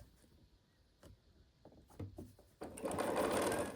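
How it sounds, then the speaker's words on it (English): A sewing machine stitches quilt block pieces together, starting with a few soft clicks and handling sounds before a steady close whirring run of stitching builds in the last second, alone and fairly quiet. "I'll sew that on."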